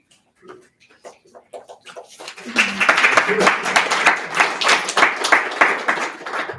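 An audience at a Poets & Pints poetry reading breaks into clapping after a poem. The sound starts with sparse claps and swells into full, close applause under a speaking voice.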